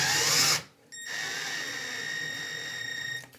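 A cordless power drill with its clutch turned down drives screws into a shower and bathtub faucet manifold, a steady whining run of about two seconds after a brief earlier burst, close and alone.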